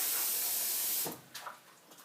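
Tap water for watering potted orchids gushes in a steady broad hiss for about a second, then stops, leaving faint splashes and drips.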